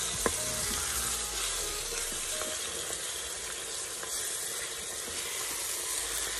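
Veal, onion and spices are stirred in a Cookeo multicooker, giving a constant close sizzling and frying hiss with a few scraping stir clicks near the start.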